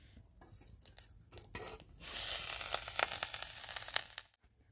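Grated coconut hits hot ghee in a wok over low flame, a steady bright sizzle swelling up after a few scattered scrapes and crackles, close and fairly loud, then cutting off abruptly near the end.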